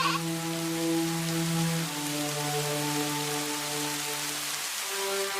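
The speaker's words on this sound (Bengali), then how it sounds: "বৃষ্টি হচ্ছে, ওই ঘরে তো পানি পড়ে।" Steady rain falls with a dense, even hiss, close and constant throughout, while a sustained animal bleat or tonal hum runs underneath.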